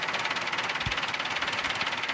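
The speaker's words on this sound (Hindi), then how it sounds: "साउंड ट्रैक्टर का आप सुन लें जी" A 2010 Massey Ferguson 375 tractor engine runs steadily nearby with a rhythmic diesel knock and dense, even rumble, no voices over it.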